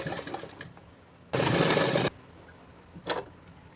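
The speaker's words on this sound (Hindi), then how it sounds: "अब हमें ये ऊपर से हमें टॉप स्टिच कर देना है। बिल्कुल किनार होके हमें सिलाई चलाना है।" A sewing machine top stitches along the edge of a shirt collar in one short burst of stitching, followed later by a quick second whir amid faint handling noise.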